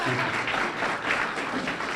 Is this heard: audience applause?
yes